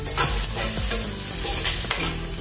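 Loud, close sizzling and crackling of curry leaves frying in hot oil, with stirring scrapes, continuous and busy throughout.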